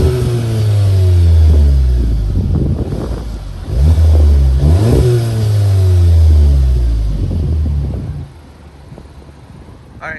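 A 2021 Volkswagen Jetta GLI engine revs repeatedly, loud exhaust rising and falling in pitch across three or four close throttle blips, then settles back to a low idle.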